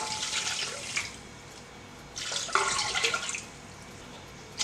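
Water splashes and pours into a pot in two bursts, a short one then a longer stream, close by, with quiet pauses in between.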